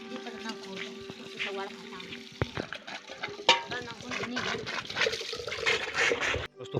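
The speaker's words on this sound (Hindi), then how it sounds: "तो दोस्तों पानी आ चुका है, ज़रा पानी भर लेते हैं।" Water filling from a tap outdoors in a village, a running splashing flow with clinks of a vessel, heard under a voice talking and humming.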